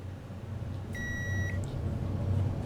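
A short electronic elevator beep in a video game, a pure, steady tone sounding once for about half a second, over a low rumbling hum.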